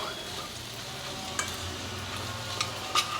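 Tender tamarind leaves fry with salt and chili powder in a pan, a steady low sizzle running throughout, with a few brief scraping stirs near the end and no talking.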